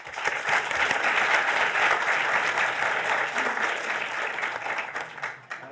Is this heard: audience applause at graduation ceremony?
yes